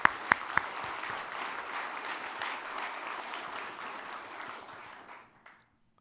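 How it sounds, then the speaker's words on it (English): Sustained applause from a conference audience honoring the Ontario Chamber at a business luncheon, an even crowd-wide wash of clapping with a few sharp nearby claps at the start, tapering off and fading out near the end. "Let's give Ontario Chamber a round of applause."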